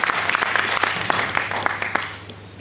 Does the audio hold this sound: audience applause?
yes